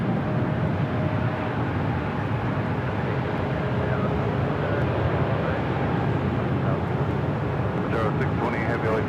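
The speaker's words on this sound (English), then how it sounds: "Breeze Airbus A220-300 now rolling down to 24 left." A Breeze Airways Airbus A220-300 airliner rolls down runway 24 left at LAX, a steady broadband jet roar holding level throughout, with faint radio-like chatter near the end.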